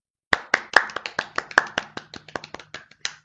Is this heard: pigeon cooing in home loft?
no